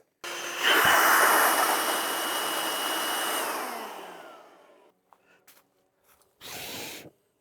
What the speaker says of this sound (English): just want to do a wind test with the Milwaukee blower here. So I'll just start it up.